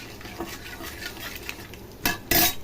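Sun-dried turkey berries are sautéed in oil and stirred in a pan, with soft scraping and a quiet sizzle followed by two sharp metallic clanks of a spoon against the pan near the end.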